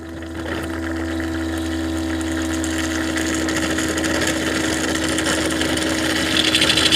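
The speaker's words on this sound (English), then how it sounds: "So here we are emptying the dirty water." A steady, continuous pumping hum with a watery churn beneath it, even in level and unbroken throughout, as a Eufy S1 Omni Pro robot vacuum station pumps out dirty water.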